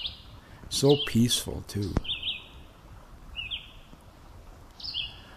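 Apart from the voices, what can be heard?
sparrow chirping by a riverbank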